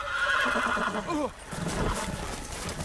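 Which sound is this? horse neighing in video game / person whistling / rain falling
horse neighing in video game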